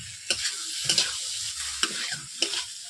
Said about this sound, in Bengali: পটল আলু থেকে তেল ছিটিয়ে যাচ্ছে, দেখতেই তো পাচ্ছেন।